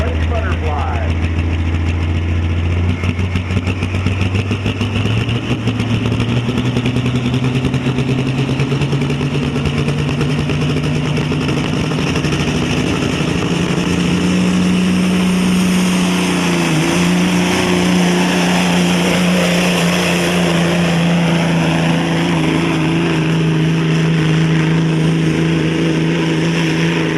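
A 1974 Kenworth truck engine roaring continuously at a truck pull, loud and close, its pitch climbing steadily as the throttle opens, with no break in the sound.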